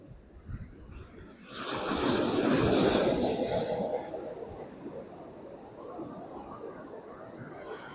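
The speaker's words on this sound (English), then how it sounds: "See the waves rushing against the waves, coming right onto the beach." Ocean waves roll onto Kappad beach in Kozhikode, one broad rushing surge swelling over a couple of seconds, then easing into a steady lower wash of surf.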